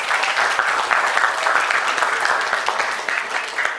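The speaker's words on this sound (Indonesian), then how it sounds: "Tepuk tangan buat beliau." A seminar audience bursts into loud, dense applause, many hands clapping steadily and close by for the whole few seconds with no talk over it.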